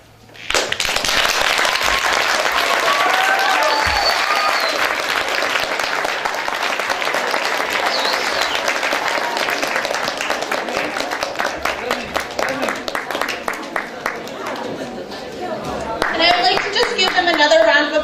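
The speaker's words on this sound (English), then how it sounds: "Please give them another round of applause." Sustained audience applause following a student stage performance at a European Erasmus school event, dense and loud throughout, thinning slightly near the end before a brief swell, with some voices mixed in.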